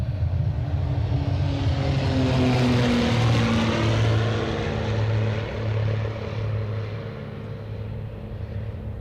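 A Cape Air propeller plane arriving at Boston Logan from Nantucket, its engine drone loud and steady, swelling and then fading slightly as it passes close by, with no talk.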